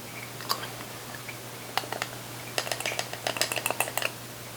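Light clinks and scrapes of a utensil against a pot or bowl while ground cumin and oregano are stirred into a roasted tomato guajillo salsa, scattered soft taps coming in quick clusters over a steady low hum.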